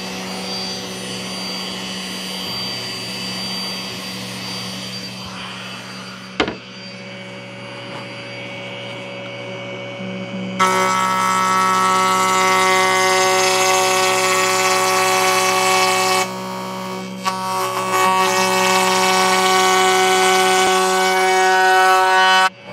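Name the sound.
router table cutting wooden end caps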